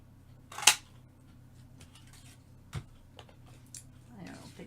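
Scissors cutting paper for a stamping craft, heard as one sharp snip early on followed by a few fainter, scattered cuts and handling noises, with no talk.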